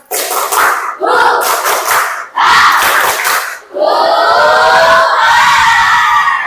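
A group of children clap and shout together in a loud, rhythmic chant, with bursts of sharp claps between energetic unison vocal lines.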